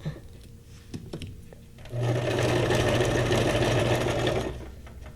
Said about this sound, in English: you don't have to be an expert to wield the sewing machine for your paper